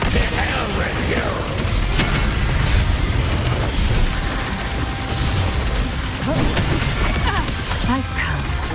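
Explosions and booms in the Wuthering Waves video game, loud, dense and continuous, mixed with mechanical clanks and crashes of combat, with voices speaking over the din.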